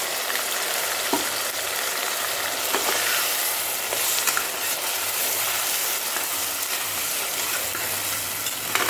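Ground spice paste frying with onions in a pan for a Bengali mutton curry with potatoes, a continuous loud sizzle with occasional stirring scrapes and clinks, no voices.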